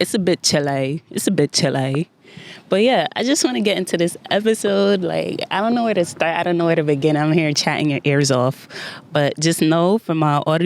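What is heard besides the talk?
No everyday noises stand out.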